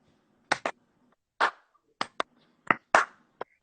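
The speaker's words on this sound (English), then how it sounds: "Can we slow clap him out?" A handful of sharp, separate hand claps are spaced unevenly in a slow, deliberate rhythm, close and crisp against a quiet background.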